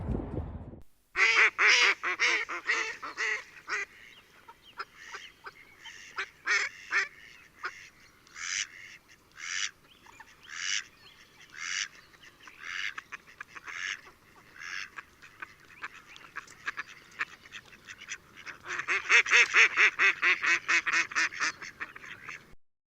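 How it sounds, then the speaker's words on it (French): A farm duck quacking repeatedly in quick, nasal bursts, close and clear, with a busier flurry of calls near the end. "Le canard adore l'eau"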